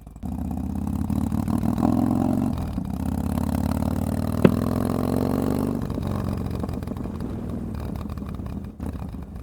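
A Harley-Davidson Dyna motorcycle engine runs steadily near the microphone, a low throbbing rumble with a slight rise in revs early on and one sharp click midway, with no talking.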